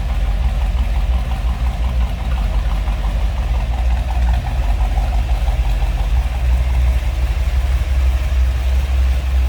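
Deep, even idling of a 1962 Chevrolet Impala SS 409 V8 throbs steadily throughout, near and constant, with a slight pulsing lope and nobody speaking.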